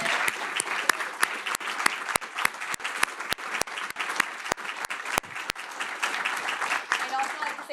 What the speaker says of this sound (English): I would like to give another round of applause to this amazing,